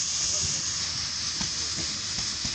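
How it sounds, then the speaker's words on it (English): Steady broad hiss of steam venting from a Waukesha locomotive at the Edaville Railroad 75th anniversary, close and continuous, with wind buffeting and faint voices underneath. "Letting off some steam."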